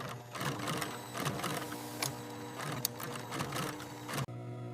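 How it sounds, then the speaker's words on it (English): Industrial sewing machines in a denim factory make buttonholes and attach waist buttons on jeans, a busy, continuous mechanical chatter of rapid needle strokes and clicks that cuts off abruptly near the end. "Specialized machines create buttonholes and attach the main waist button."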